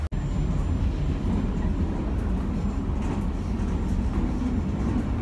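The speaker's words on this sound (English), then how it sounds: "until the train departs, so I should probably get on" A train idles at a station in Naples, Italy, before departing, giving a steady low rumble and broadband hum that fills the scene continuously, close and moderately loud, with no talk.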